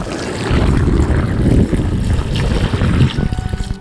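Water poured into a batch of homemade jackfruit wine with sugar, a steady rushing, splashing pour that is close and loud for a few seconds, with no talking.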